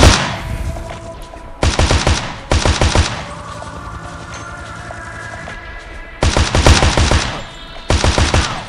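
A fast-firing gun in a helicopter video game: several loud, sharp bursts of rapid automatic fire, each about a second long, separated by quieter stretches of steady background hum.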